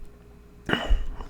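A single short cough bursts out from a speaker partway through, close and sharp against a quiet room, after a moment of near silence.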